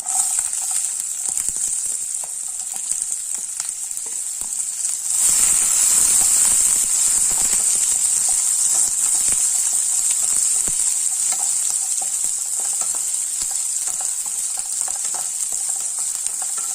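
Chopped onions sizzle loudly and continuously as they sauté in a hot pan, the hiss swelling partway through, with occasional scraping clicks of stirring.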